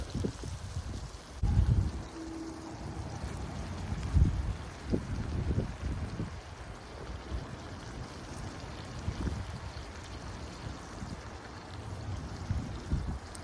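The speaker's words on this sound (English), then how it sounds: "Y'all hear that wind?" Wind blowing outdoors in Branson, Missouri, gusting in low rumbling bursts against the microphone, with quieter stretches between gusts.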